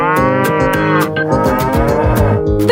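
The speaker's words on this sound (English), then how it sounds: "The cow says." Cow mooing in a long, loud, drawn-out call over a steady rhythmic backing track from a children's animal-sounds nursery song, with no talking.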